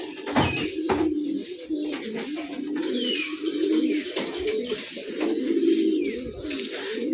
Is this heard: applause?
no